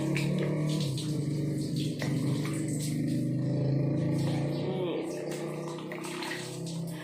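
Plain tap water splashing steadily as a face is rinsed at a sink, continuous running water under a voice talking over it.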